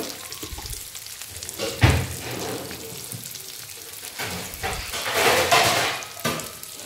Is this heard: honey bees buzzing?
no